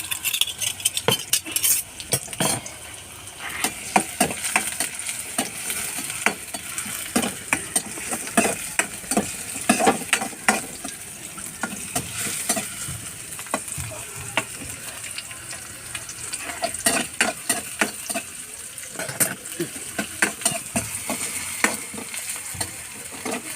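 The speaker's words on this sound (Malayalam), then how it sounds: "ആദ്യം സബോള ഒന്ന് വഴണ്ട് വരട്ടെ, എന്നിട്ട് തക്കാളി ചേർക്കാം." Chopped onion and two garlic cloves sauteing in hot oil in a pan, a steady close crackling sizzle with frequent metallic clinks and scrapes from a stirring utensil, with no talking.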